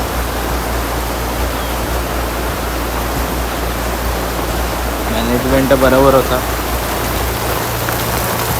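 Heavy rain pours steadily onto a chicken shed, making a dense, even hiss that lasts the whole time, with a voice speaking briefly partway through.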